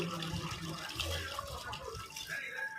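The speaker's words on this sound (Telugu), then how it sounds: "కొంచెం వాటర్ పోసుకొని" Water pours and splashes into a pressure cooker for chicken curry, a steady trickling gurgle with faint clinks and background noise.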